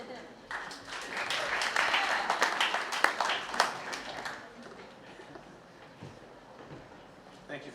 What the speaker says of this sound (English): Thank you for clapping for Father Burrish.